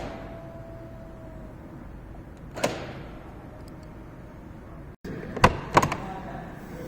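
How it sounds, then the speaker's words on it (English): The door locks of a 2022 Mercedes G63 AMG engage from the key fob, giving one faint click, then after a pause a pair of sharper mechanical clicks over quiet background hiss. "So here's the key, and when I lock the car, I hope you can just hear this."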